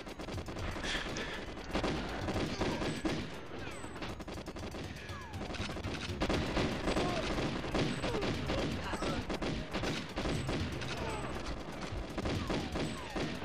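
Enemy gunfire in the GoldenEye 64 HD video game, with bursts of rapid automatic shots and scattered single cracks going on almost without pause, and a player talking faintly beneath.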